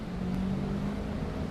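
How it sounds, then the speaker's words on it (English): City traffic near West End Avenue by the World Trade Center site, a continuous low rumble of passing cars and engines, steady and moderately loud with no talk. "in spite of the fact that you hear the city traffic"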